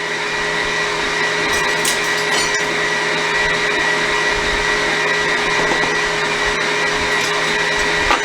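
An electric mixer beats butter and sugar in a bowl, a steady loud whirring hum that holds for several seconds with small fluctuations as the beaters work, and no one speaks.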